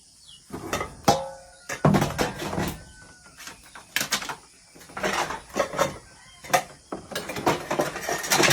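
Plates being gathered and stacked outdoors to carry down to a creek, giving irregular clinks, clatters and scrapes of dishes in bursts across the clip, close and moderately loud, with no talk.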